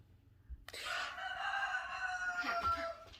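A pet rooster crows once in a grooming salon, a loud, drawn-out cock-a-doodle-doo close by, preceded by a soft thump in an otherwise quiet setting.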